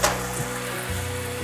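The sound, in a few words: stir-frying sweet potato leaves and white mushrooms in a pan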